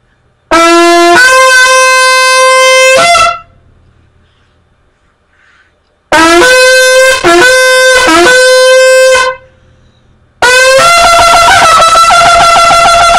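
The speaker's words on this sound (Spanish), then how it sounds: "Entonces tenemos que encontrar, amado hermano, el lado que suena mejor de nuestro shofar" A 42-inch shofar blown in three long, loud blasts, each a sustained horn tone of a few seconds with pitch shifts, separated by silent gaps.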